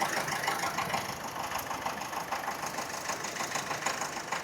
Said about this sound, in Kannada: ಗಾಡಿ ಸೌಂಡು ಕೇಳತ್ತೀರಿ